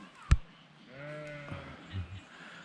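A single sheep bleats clearly nearby at a campsite, a wavering tonal call after a sharp knock, with quiet outdoor background around it.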